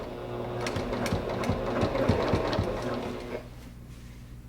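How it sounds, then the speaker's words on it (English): A sewing machine stitches binding onto a quilt in a steady, close run of rapid needle strokes, then stops abruptly near the end. "So now I'm just going to start stitching."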